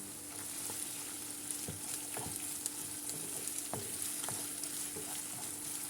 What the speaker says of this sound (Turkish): Biberle beraber güzelce yeniden kavuruyorum.